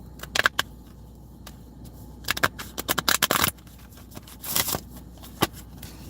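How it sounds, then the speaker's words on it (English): Astrology cards are shuffled and pulled, giving bursts of crisp riffling and flicking with quiet gaps between, close to the microphone. "Let's pull some astro cards on that."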